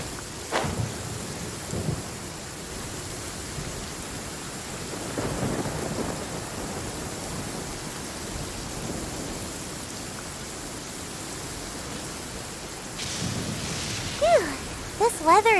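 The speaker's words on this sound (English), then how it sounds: "Rain!" Steady rain pours down in a thunderstorm in the video game Genshin Impact, with low rumbles of thunder rolling in at intervals and brief voices and game sounds near the end.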